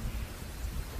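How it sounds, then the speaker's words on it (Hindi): Thunder rumbles low and heavy alongside a wash of rain in a short, continuous burst, with no voices present. "मेघ गरजते रहे"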